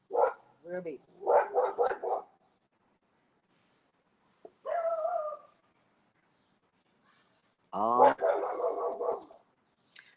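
A dog barks in several short bursts, close by and loud, with quiet pauses between groups of barks and a person speaking briefly.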